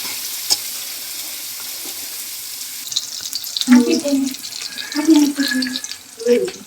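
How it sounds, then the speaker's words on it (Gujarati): Vegetables, including cabbage and carrot, frying in a pan for vegetable pulao: a steady soft sizzle, then clinking, scraping stirring sounds that come in bursts. "હવે આને આપણે થોડીક વાર ફ્રાય થવા દઈશું"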